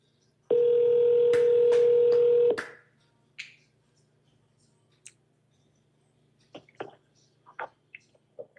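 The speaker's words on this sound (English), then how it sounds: "Smile and dial." A telephone is dialed, opening with a steady tone lasting about two seconds, followed by scattered soft clicks and short blips as the number is entered.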